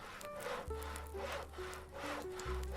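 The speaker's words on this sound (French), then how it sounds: "Et toi, t'as fini de couper ton bois, Knife, c'est vrai ça?" Wood sawn with a magic saw in the Western video game Cowboy Life Simulator, a series of rhythmic rasping strokes with low thumps, repeating steadily and fairly loud with no talking.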